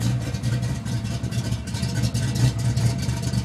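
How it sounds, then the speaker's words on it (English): A 1992 GT's engine with a high-lift camshaft idles steadily nearby, a lumpy, uneven rumble with slight rhythmic lope, running alone without talk. "Car idles really well, no idle issues."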